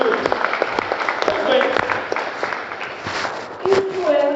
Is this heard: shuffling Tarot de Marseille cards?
no